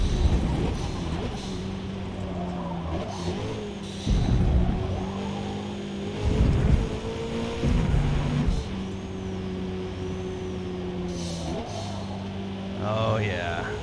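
Race car engines in a Forza Motorsport circuit race drone steadily with sustained tonal whine, shifting pitch through gear changes and louder surges, while someone talks over them throughout.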